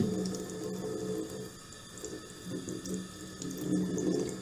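Makeup brushes being rinsed one at a time under a running tap fill a sink with a steady rush of water close by, its texture shifting slightly as the brushes pass through the stream, with no voices.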